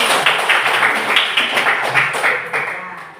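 A classroom claps for a student, a dense burst of many hands that starts strong and slowly fades over a few seconds.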